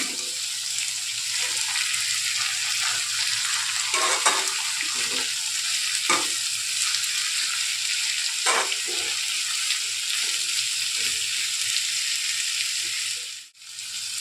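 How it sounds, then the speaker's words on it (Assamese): Chopped banana flower fries in a pan with a steady, close sizzle, broken by scraping and clinking as it is stirred, with no talking. "ইয়াতে মই এতিয়া কাটি থোৱা কলডিলখিনি দি দিম।"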